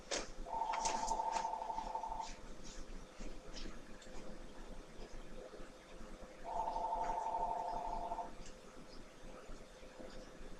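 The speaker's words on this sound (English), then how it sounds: "Hang on a second, the phone's ringing" A telephone rings indoors in two separate bursts a few seconds apart, each a warbling electronic trill, fairly faint over a quiet room.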